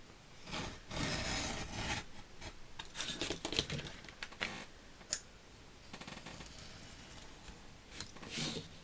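Scissors or a blade cut paper for a vintage Mother's Day card, close-up rasping and snipping strokes in irregular bursts with short pauses between, no speech.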